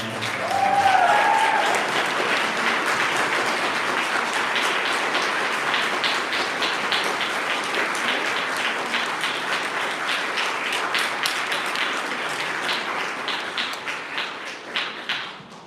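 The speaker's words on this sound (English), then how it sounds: "students, let's give them a round of applause too" Audience applause at a conservatory graduation ceremony: a large crowd claps continuously and fairly loudly, with individual sharp claps standing out as it carries on and then tapers off at the end.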